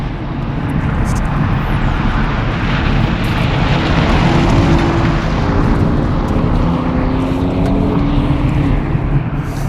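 A 2021 BMW 228i Gran Coupe xDrive is pushed hard through a curve. A loud, steady engine roar and road rumble fill the whole stretch without a break, and no voices are heard.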